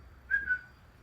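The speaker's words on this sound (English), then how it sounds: "Do that whistle again." A short, faint whistled note rises briefly, two quick tones in a quiet room.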